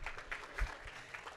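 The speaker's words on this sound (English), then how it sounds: "Jay, clap for Jay." An audience at a startup presentation gives scattered applause, a light, uneven patter of individual claps that sounds fairly faint and distant.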